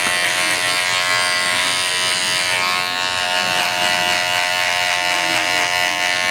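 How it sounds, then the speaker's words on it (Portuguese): Electric hair clippers cut a military fade haircut, a loud, steady, close motor buzz with a dense whine running unbroken throughout, no talk over it. "Não aperta muito a máquina contra a pele dele, porque senão você pode gerar algumas marcas no corte"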